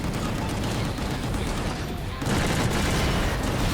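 Dense, continuous gunfire rattles in the shooter video game Gungrave G.O.R.E, a steady barrage that briefly eases and then swells louder again.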